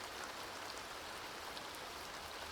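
Steady, soft rain falling in the life-simulation game The Sims 2, an even hiss of drops with no voices and no breaks.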